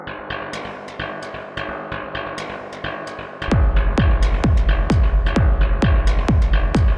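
A Karplus-Strong synth built from echoes on a simple noise source plays a run of plucked, string-like notes in a steady rhythm. They turn much louder and deeper with strong bass partway through, each note ringing and decaying quickly.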